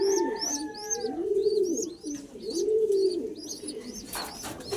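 Pigeons from Pampanga coo in slow, rolling phrases that repeat several times, close and steady, while small birds chirp faintly higher up in the background.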